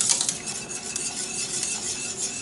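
Spoon stirring thickening strawberry pie glaze in a pan, soft continuous scraping and faint clinks close up, no talking.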